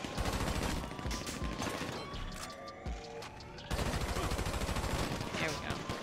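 Rapid gunfire in GTA V, dense continuous volleys of close shots with a brief lull midway, heavy and loud throughout, with a voice talking over it.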